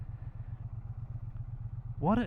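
A 2025 Triumph Bonneville T100 motorcycle engine idles with a steady low, even pulsing throb, and a voice comes in over it near the end.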